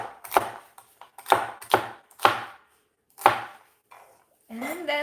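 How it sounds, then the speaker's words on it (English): A knife chops celery on a cutting board in about six sharp, distinct strikes at an uneven rhythm, close and crisp against quiet, followed by a short stretch of speech. "Let's just cut the celery."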